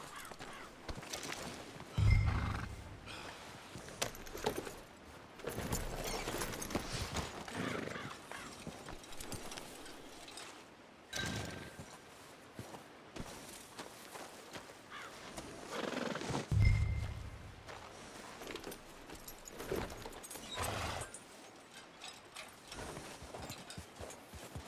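Horse in the Red Dead Redemption 2 video game, hooves clip-clopping with two loud whinnies spaced well apart, amid faint ambient game sounds.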